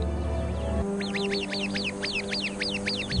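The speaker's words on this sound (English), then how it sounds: "The sentry bird immediately sounds the alarm." A rapid series of sharp, rising alarm calls from a sentry bird warning of a viper repeats steadily over a low background hum, fairly close and clear.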